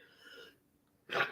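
A single sharp sneeze bursts out near the end, loud and close, after a stretch of breathy throat noise during a sports talk discussion.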